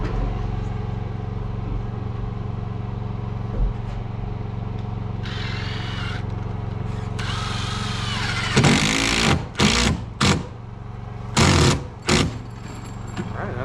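A drill drives 6-inch washer head screws down through OSB and foam into roof trusses, whirring in several short bursts after a steady background engine drone, close and fairly loud.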